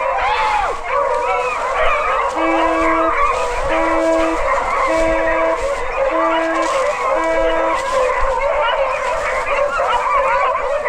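During a wild boar hunt, a pack of hunting dogs bays and howls together, with yelps and a rhythmic series of short repeated barking tones, loud and continuous throughout.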